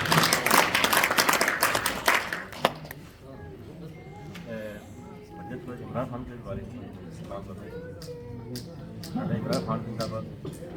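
Audience at a charity event claps for the children, a dense burst of applause in the first few seconds that fades into scattered claps, with voices speaking over the rest.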